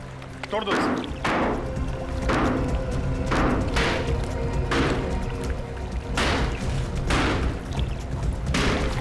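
Heavy tools striking a buried concrete water tank as it is dug out and broken open, a series of loud, irregular thuds and crashes repeating every second or so, with shouting voices mixed in.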